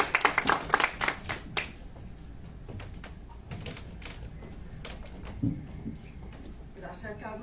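An audience claps to welcome two doctors at the start of a talk on clinical characteristics and outcomes of hospitalized patients: a brief burst of applause in the opening two seconds, then thinning scattered claps over room tone and faint murmur.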